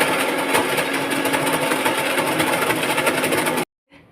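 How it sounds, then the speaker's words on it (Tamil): Kitchen mixer grinder whirring steadily as it grinds chopped fufu pieces, a loud continuous motor drone with rattling for several seconds before abruptly stopping. "சின்ன சின்ன துண்டாக கட் பண்ணி மிக்சியில் போட்டு அரைச்சி எடுத்துக்கணும்"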